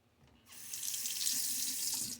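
Tap water runs and splashes into a bathroom sink during a wet shave, starting abruptly as a close, steady hiss that holds for about two seconds before cutting off.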